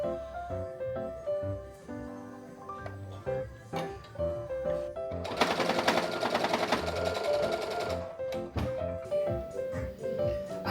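Sewing machine stitching lightweight fabric, quiet at first and then running in a steady buzzing burst of about three seconds in the middle, with intermittent clicks and handling noises and some background music around it.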